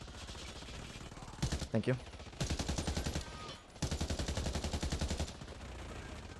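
Automatic weapon fire in the video game Warface, rapid bursts of closely spaced shots in two long strings, loud and near, with a voice speaking briefly between the volleys.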